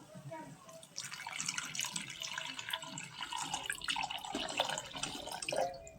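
Water is poured into a pot of broken wheat (dalia) as it cooks, giving a continuous splashing, trickling stream that lasts several seconds, while a voice talks alongside.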